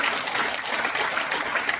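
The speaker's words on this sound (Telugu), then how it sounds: "ఒకసారి బిగ్ రౌండ్ అప్లాజ్ ఇవ్వండి" An audience gives a big round of applause, a dense, steady wash of clapping that fills the whole short stretch without a break.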